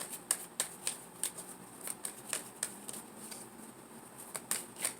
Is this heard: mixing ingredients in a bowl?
no